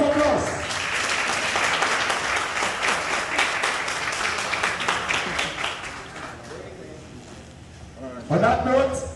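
Audience applause at a Mende naming ceremony in Sierra Leone, a dense crowd clapping steadily for about six seconds before fading, followed by a burst of talk near the end.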